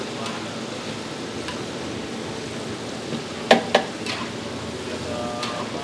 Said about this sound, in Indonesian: Ada Mas Mimin dengan Mas Adli yang lagi bikin mie goreng